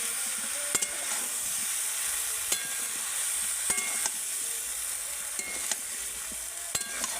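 Vegetables for shukto sizzle steadily while being stirred with spices in a pan, with a spoon scraping and knocking against the metal every second or so, close and clear with no talk.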